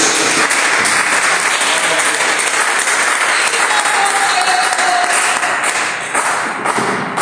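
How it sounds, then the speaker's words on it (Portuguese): A church congregation gives loud, sustained applause during a worship service. The clapping is thick and continuous for about seven seconds and eases slightly near the end. "Quem pode dar uma salva de palmas para Jesus?"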